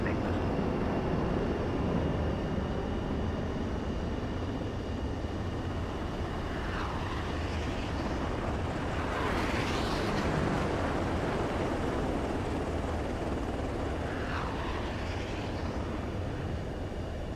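A fighter jet lands in the video game Ace Combat 7, heard as a steady, loud engine roar with a few sweeping whooshes rising and falling over the continuous rumble, and no voices.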